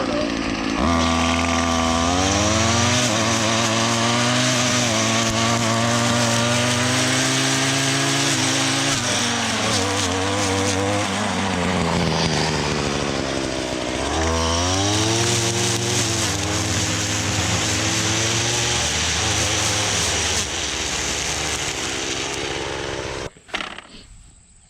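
Gas weed eater engine revving, loud and close, its pitch climbing and falling through repeated throttle surges across the whole stretch before it cuts off at the end.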